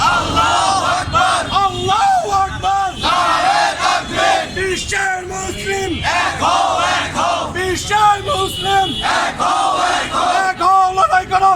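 A large protest crowd outdoors roars back in unison to a religious chant, loud sustained shouting voices with rhythmic swells and cheers throughout.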